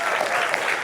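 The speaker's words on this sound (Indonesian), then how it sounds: "Tepuk tangan dulu." Audience applause at a lawyer's public talk, a dense steady patter of clapping filling the short moment, fairly loud and even throughout.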